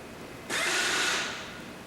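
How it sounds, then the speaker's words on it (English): A power wrench kicks on abruptly with a loud whirring burst while tightening a nut, holds for under a second as the clutch slips, then winds down, heard alone. "when he hears the clutch slip, the mechanic releases the trigger and waits for the motor to stop"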